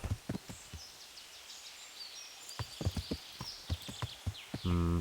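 Horse hooves from the video game Kingdom Come: Deliverance, a run of distinct clip-clop footfalls on the ground in an uneven walking rhythm, fairly close, ending with a short horse whinny or snort.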